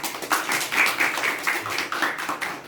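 A group of people clapping together in a hall, a steady patter of applause at moderate volume that continues evenly before fading.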